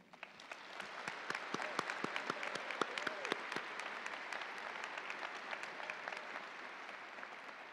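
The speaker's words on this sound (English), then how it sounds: "a round of applause for them, please." Audience applause at a university white coat ceremony, honoring the faculty; steady dense clapping from a large crowd, with a few louder, nearer claps at the start, continuing evenly and moderately quiet throughout.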